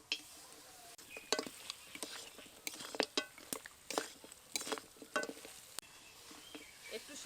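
Goat shank pieces stirred with spices in hot oil in a pan, a spoon scraping and clinking in repeated close strokes over a soft, steady sizzle.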